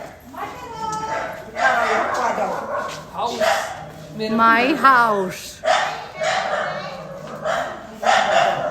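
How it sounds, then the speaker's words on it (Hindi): Several dogs bark and yip in short bursts, with a whimpering howl in the middle, while a person talks over them nearby. "आज डॉगी भौंक रहे हमारे ऊपर"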